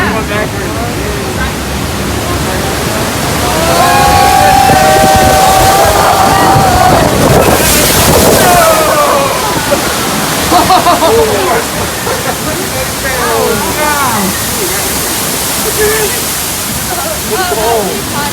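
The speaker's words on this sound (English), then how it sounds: "Oh yeah, they have sprinklers." Spray from sprinklers showering a raft on the Kali River Rapids water ride, a loud broad hiss of splashing water over rushing river noise, with riders shouting and talking throughout.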